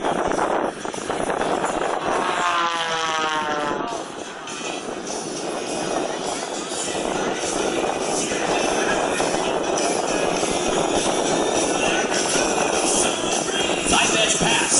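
Aerobatic airplane at the New York Air Show at Stewart International Airport, its engine droning loud and steady with a rising-falling pass, broad wind-like roar filling the whole stretch.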